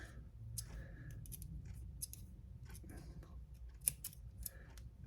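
Quiet, close snipping of small scissors trimming O gauge model train track, several short crisp cuts in irregular succession with soft handling noises between.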